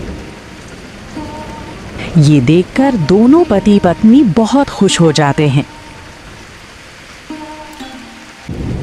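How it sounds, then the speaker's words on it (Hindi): Steady rain hiss over a village fills the background while a narrator speaks in Hindi over it, the patter continuing evenly throughout. "फिर गांव में बारिश होने लगती है।"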